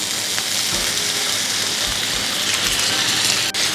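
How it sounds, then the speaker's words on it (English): Continuous crackling hiss of chicken for satay frying in a hot pan, steady and close, with no voices. "So now that is sizzling really nicely"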